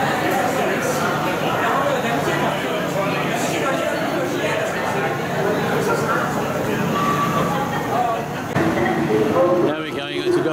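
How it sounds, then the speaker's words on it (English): Interior of a bullet train running from Beijing to Tianjin, a steady broadband rumble and rush of the carriage in motion throughout, with people talking over it and a brief shift in the noise near the end. "Now we're going to go on the bullet train. Here it is, car 4. Beijing to Tianjin."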